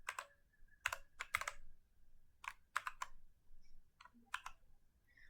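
Bursts of close keystrokes on a computer keyboard, typed in short irregular clusters separated by brief pauses in a quiet room, with no voices.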